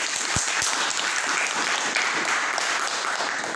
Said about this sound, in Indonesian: Give a applause, students.